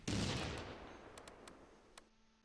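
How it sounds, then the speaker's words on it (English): A mortar blast booms in the World War II strategy game Close Combat II, one loud burst fading over about two seconds, with a few faint sharp clicks after it and no talking. "They're already mortaring us."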